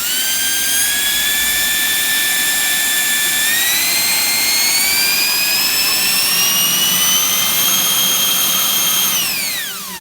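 600W brushless turbo fan motor drawing about 36 amps, a loud steady high-pitched whine that climbs gradually in pitch, then drops sharply as it spins down near the end; no voices.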